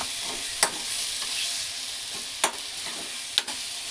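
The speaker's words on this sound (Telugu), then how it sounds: "చూడండి ఇది ఇంకా కొంచెం వేగాలి." Gongura chutney sizzles steadily in a pan over medium heat, a continuous bright frying hiss broken by three sharp clinks of a stirring spoon.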